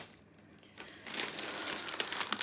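Packaging crinkling while groceries are unpacked, starting soft and growing into busy, close rustling and crackling with a few sharper crackles, no voices.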